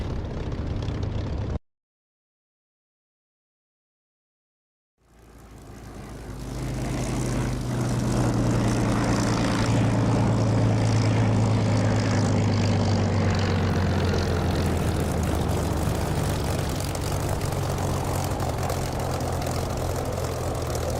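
A tail-dragger propeller plane in the DCS flight simulator game: after a short cut to silence, a steady loud engine drone rises with a low propeller hum that holds throughout.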